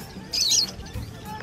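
Birds at a busy bird market stall selling parrots, with a brief burst of high chirping and tweeting in the middle over faint background murmur.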